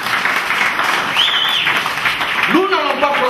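A crowd at an international church conference claps and applauds, a broad wash of clapping under a preacher's raised voice.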